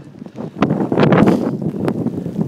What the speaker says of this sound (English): you'll probably be able to pick up on the sound that it's a bit windy